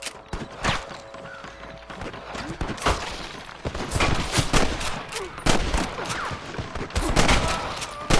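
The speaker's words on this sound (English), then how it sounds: "Damn fine shooting, boys." Gunfire in the Red Dead Redemption video game: a loud, busy fusillade of sharp shots and bursts mixed with galloping horse hooves and a whinny, the firing growing denser toward the end.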